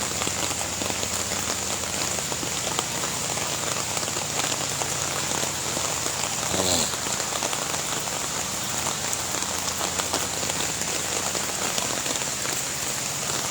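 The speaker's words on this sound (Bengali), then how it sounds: "সকালবেলায় এত বৃষ্টি" Heavy rain pours steadily onto a flooded office road in Bangladesh, a dense, continuous hiss of drops hitting standing water, loud and close throughout with no talking.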